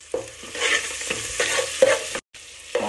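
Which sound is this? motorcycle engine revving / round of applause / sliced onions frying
sliced onions frying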